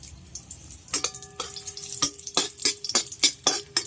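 Dried red chillies hit hot oil in a pan while lentil dal is being prepared, giving a string of sharp, irregular pops and crackles that grow denser over a few seconds.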